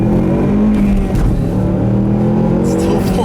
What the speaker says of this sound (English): I'll leave you guys with a nice little acceleration here